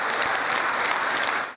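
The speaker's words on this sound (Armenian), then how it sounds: "դահլիճը հոտնկայս է ծափահարում" A congress hall gives a standing ovation after a greeting from a State Duma deputy at a communist party gathering. Dense, steady applause fills the hall at full strength and barely eases before it cuts off.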